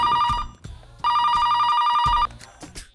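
A telephone rings in two long electronic bursts separated by a pause, loud and close, with brief voices and small noises in between.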